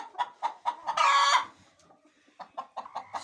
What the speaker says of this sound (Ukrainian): А, це квочечка, це квочечка.